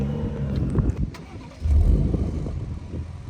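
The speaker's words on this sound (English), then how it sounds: "Let's go hear the Ford now." A 2024 Ford Ranger Raptor pickup's V6 engine cranks and catches, then settles into a deep, rumbling idle with a few throaty blips of revving, close by.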